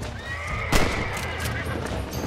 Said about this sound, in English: Oh, I scared the horse. Guns scare horses.